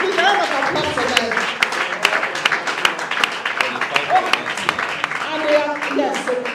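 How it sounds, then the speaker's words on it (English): An audience at a debate competition applauds the winning team, a rolling spread of clapping mixed with cheering voices and chatter, fairly loud and continuous. "Please, a round of applause for them."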